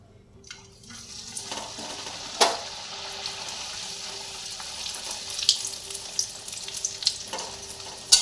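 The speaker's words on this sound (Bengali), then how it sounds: "আর এবার আমি প্রত্যেকটা ভেজে নেব।" Pea-stuffed kachori deep frying in a pan of hot oil, a steady close sizzle and bubbling throughout with scattered pops and a few sharper crackles, no voices.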